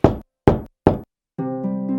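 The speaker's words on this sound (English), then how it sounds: "Suddenly, there was a knock on the door." Three sharp knocks on a door in an evenly spaced run, loud and close, followed by a soft swell of festive music in a family home at Christmas.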